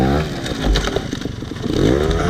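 A 250cc motorcycle revving before a pipe jump, loud and close, with rough, rising and falling engine bursts across two seconds and no talk.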